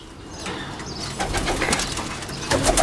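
A Dab wala high flying pigeon, a male bird, gives soft coos amid wing flaps and light rustling, close by and without talking.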